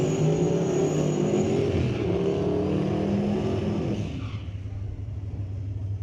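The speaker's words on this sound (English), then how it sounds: "Pulling into the burnout box right now." A turbocharged Fox body hatchback drag car rumbles loudly and steadily as it pulls into the burnout box during qualifying at Mission Raceway Park. The engine noise eases off toward the end.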